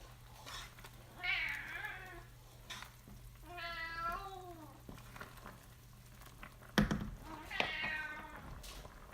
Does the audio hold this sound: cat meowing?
yes